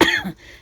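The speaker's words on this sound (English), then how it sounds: "here comes a cough" One short, sharp cough close by, followed by a quiet trailing breath, at a paper doll house furniture craft table.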